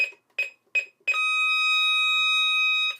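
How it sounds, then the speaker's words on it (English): A Scantronic 9448 alarm panel sounds an interrupted tone as three or four short beeps, then switches to a long solid tone held for about two seconds, clear and close with no voices. "There's an interrupted tone when a zone is opened, and then there's a solid tone when everything's closed"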